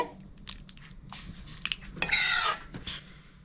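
Chicken soup is ladled from a pot into a bowl, with quick close clinks of metal on dishware and a brief splashing pour in the middle, fairly quiet and with no talking.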